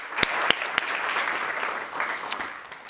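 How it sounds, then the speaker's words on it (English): A crowd claps steadily in warm applause, with a few sharper claps standing out near the front. "let's give the crew a round of applause for making today possible"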